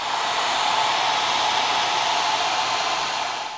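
A heat gun warms a garden hose repair fitting, giving a continuous loud blowing hiss that holds steady for several seconds and eases slightly at the end, with no speech.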